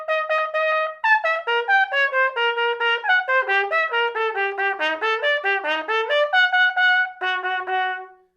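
A solo wind instrument, with no instrument named, plays Bitsch Etude No. 3 slowly. Clean sustained notes run up and down in a smooth legato line, loud and close, with no talking.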